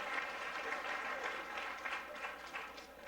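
A crowd at a 1989 Caesars Tahoe pool match between Earl Strickland and Howard Vickory applauds steadily, a faint, distant patter of clapping with no voices over it.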